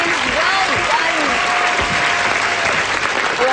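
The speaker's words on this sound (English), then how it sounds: "And an even bigger round of applause for the other two, for Ian and for Louise" Studio audience applauding quiz contestants on a kids' quiz show, a loud, steady wash of clapping throughout, with a few faint voices and whistles mixed in.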